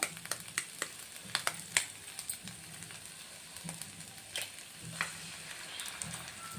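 A single egg cracked into tomato curry with turmeric frying in a pan, soft sizzle with scattered small crackles and pops, faint and close throughout.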